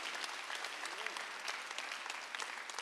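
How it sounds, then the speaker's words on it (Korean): Congregation clapping through a Sunday worship service at a Korean church, a dense steady wash of applause filling the room from start to finish with no talk over it. "박수"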